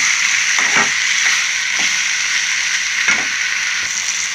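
Pieces of drumstick sizzle steadily in hot oil with salt in a cooking pan, a close, even frying hiss broken by a few soft stirring clicks.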